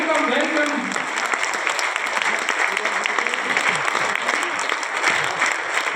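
Loud, steady applause from a seated audience at an RCM business meeting welcoming a guest speaker, a dense crowd clapping continuously for several seconds with voices audible underneath.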